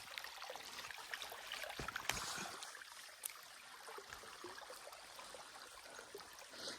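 Water flowing from a waterfall near a jungle hut, a steady broadband rush with a few brief splashes and knocks, moderately faint and continuous, with no voices.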